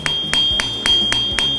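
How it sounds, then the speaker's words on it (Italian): A hammer taps around the metal handle of a handmade straight razor in an Italian razor-maker's workshop, shaping and widening it: six light, ringing metallic strikes at a steady rhythm, close up and with no talking. "Bisogna col martello girare intorno per farlo spanciare, allargare"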